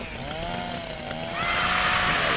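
A chainsaw burns in the fireplace of the video game Little Inferno, a whining, gliding motor tone that shifts pitch and then gives way to a loud hissing roar of flames.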